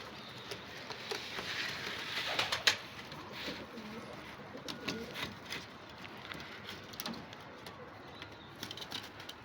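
A young pigeon coos softly on a rooftop loft among pigeon towers, low repeated coos over outdoor background noise with faint patter.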